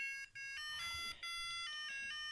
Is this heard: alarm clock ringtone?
yes